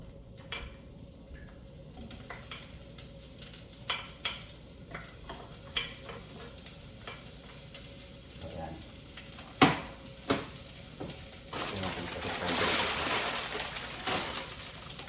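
Onion and garlic sautéing in a pan for pancit canton, a steady soft sizzle broken by scattered clinks and scrapes of stirring, swelling into a louder hiss toward the end, with no talking.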